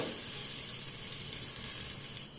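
Banana flower roti batter sizzles on a hot griddle, a steady, fairly quiet broadband hiss with faint crackles throughout and no voices.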